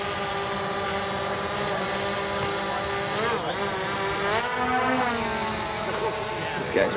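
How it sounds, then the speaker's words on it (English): Drone hovering close by at an outdoor mile run event, a loud, steady whining buzz that wavers in pitch as it adjusts position, with a voice talking briefly in the background. "I got a drone hovering in front of me."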